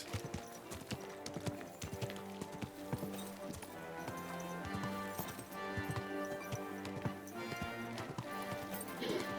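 Horse hooves clip-clop in a steady rhythm over a busy background of music, with an occasional whinny, from the video game Kingdom Come: Deliverance II.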